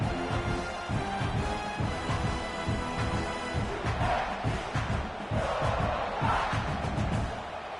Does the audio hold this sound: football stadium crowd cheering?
yes